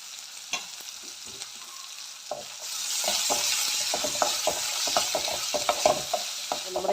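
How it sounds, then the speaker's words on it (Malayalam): Chopped ginger fries in oil in a pan with tamarind, stirred with a spoon for inji chammanthi. Sharp scraping clicks are followed by a close, crackling sizzle that builds midway and continues under repeated stirring. "ഇഞ്ചി നന്നായിട്ട് വറുത്തെടുക്കാം നമുക്ക്"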